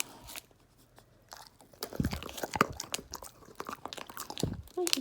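A hamster nibbles and crunches on a dried sausage snack, giving irregular close crunchy bites that come and go in bursts, louder in the second half, with no talk.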